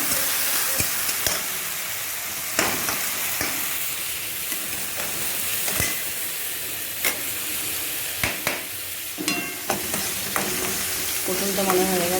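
Pointed gourd stir-fried with spices in a hot pan, a steady close sizzle broken by repeated scraping stirs of the spatula and occasional clinks.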